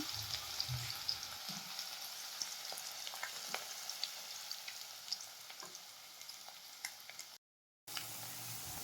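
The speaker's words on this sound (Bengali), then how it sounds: "তেলের মধ্যে তুলে দিলাম টুকরো করে কেটে রাখা আলু" Potatoes fry in hot oil with a steady crackling sizzle, close up, with a few faint clinks.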